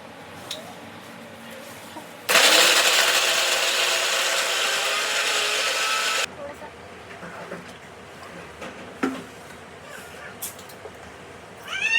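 A mixer grinder grinds coconut and onion masala for a homestyle village chicken curry, roaring loudly and steadily for about four seconds before cutting off, leaving quiet kitchen background.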